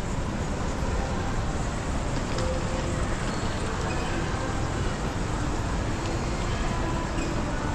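Steady wide ambience inside KL Sentral, Malaysia's largest railway station, a constant broadband rumble and hum of trains, traffic and crowd with no distinct voices standing out.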